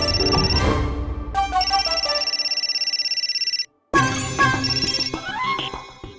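Telephone ringtone in a home, an electronic repeating melodic ring that cycles loudly and clearly, briefly cutting out before resuming.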